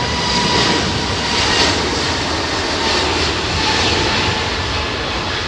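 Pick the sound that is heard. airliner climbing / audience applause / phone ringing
airliner climbing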